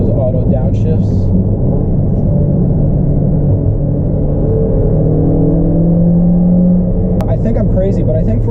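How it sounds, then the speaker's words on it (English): A 2020 Toyota Corolla Hatchback XSE with a 2-liter 4-cylinder engine drives along, its loud, steady low engine drone and road rumble filling the cabin throughout, with occasional faint voice sounds over it. "for a 2-liter 4-cylinder, this car doesn't sound that bad"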